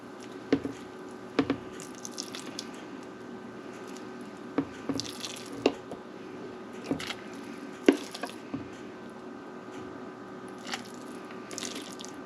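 Spoonfuls of shrimp paste dropped into boiling soup stock for shrimp bean thread soup, scattered soft wet plops and squishes over a low steady simmer, with occasional clinks.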